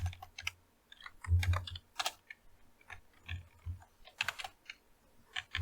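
Keyboard typing on a computer during a late-night hacking session, with irregular bursts of clicky keystrokes and short pauses, close and fairly quiet, and no talking.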